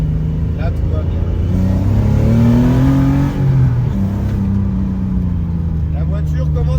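Onboard a BMW E30 while driving, the engine note rises and falls through gear changes, loud and close inside the cabin, with someone talking over it.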